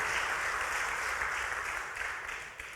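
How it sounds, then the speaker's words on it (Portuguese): Church congregation applauding during a sermon, a dense, steady wash of clapping from many hands that fills the whole stretch and eases slightly toward the end. "Se for para Jesus, aplauda melhor isso aí, por favor."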